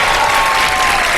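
A studio audience at a Ramadan iftar game show bursts into loud, dense applause, a short unbroken wash of clapping.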